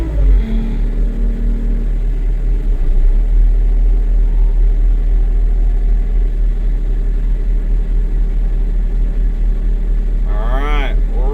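A JCB machine with high-flow hydraulics switched on runs steadily at close range, a loud continuous low engine rumble and drone holding for the whole stretch, with a brief rising whine near the end.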